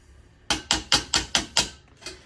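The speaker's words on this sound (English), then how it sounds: "we are hammering on a mandrel in this instance, and we are just taking down all the high spots" A hammer strikes a 1903 King cornet's brass on a mandrel, knocking down high spots: six sharp, ringing metallic blows in quick, even succession, then a pause and a softer seventh hit, close and loud.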